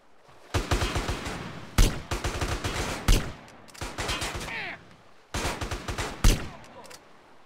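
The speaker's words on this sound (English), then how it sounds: "I might as well use this sniper rifle ammo since I have it" Sniper rifle gunfire in GTA San Andreas: four loud, sharp shots spaced about a second and a half apart, each standing out over a steady rumble of in-game engine and background noise.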